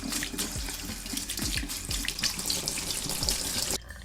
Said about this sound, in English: Just gonna add a touch of cold water on there to remove any excess starch.